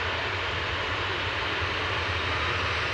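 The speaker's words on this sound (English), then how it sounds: "Ryanair 6817 from Milan, touching down there, 737-800" A Ryanair Boeing 737-800 arriving from Milan touches down at Manchester Airport, heard as a steady, broad jet roar with a low rumble, continuous and fairly loud with no voices.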